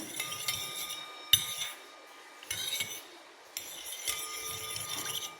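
A spoon mixes half a spoonful of aloe vera conditioner in a small bowl, giving a few sharp clinks against the bowl amid soft scraping, close and fairly quiet, with no talk.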